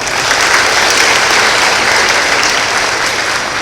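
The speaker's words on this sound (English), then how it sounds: "please give him a round of applause" Loud, dense applause from an audience at a Smith County Schools student awards night, many hands clapping in a steady unbroken roar that fills the room throughout.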